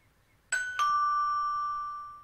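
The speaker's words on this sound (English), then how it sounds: "Doorbell." In the adventure game Secret Files: Tunguska, a doorbell gives a clear two-tone ding-dong: two quick strikes whose bright chime rings on and slowly fades, alone in a quiet room.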